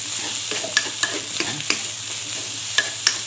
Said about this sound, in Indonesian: Oke, kita ratakan semuanya bumbunya.